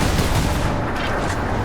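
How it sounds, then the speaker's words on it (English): Firing core discharge effect from the Space Marine video game: a loud, sustained rumbling blast with dense low-end roar and crackling texture, holding steady without pauses throughout. "If this is the firing core, does it discharge through the whole facility? Much better sound effect."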